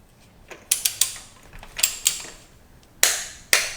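A torque wrench ratchets while tightening a spark plug to 18 foot-pounds on a 2009-2013 Toyota Corolla, sharp metallic clicks in irregular bursts over a quiet background, close.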